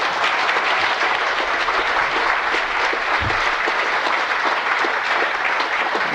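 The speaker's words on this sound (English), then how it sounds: "I think you deserve a round of applause for being here." Dense, continuous applause from a large audience fills the room at a steady loud level, honoring cancer patients and survivors at a Survivor Day event, with no speech over it.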